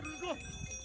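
A faint, brief livestock bellow sounds near Rara lake, a single short rising-falling call in distant open air with low background noise.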